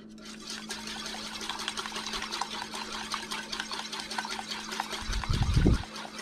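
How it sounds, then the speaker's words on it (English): Olive oil being whisked into truffle mayonnaise, a rapid steady rhythmic scraping of a whisk in a bowl running throughout at close range, with a low hum underneath and a brief heavier rumble near the end. "We drizzle in our oil and just start really, really whisking."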